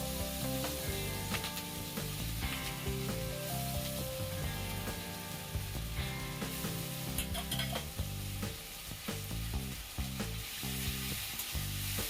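Garlic and green chillies fry in hot oil with a continuous dense sizzle and hiss, heard close under steady tonal background music.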